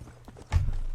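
Horse hooves clattering on a bridge in the Red Dead Redemption video game, a loud burst of heavy thudding steps starting midway and continuing alongside game ambience.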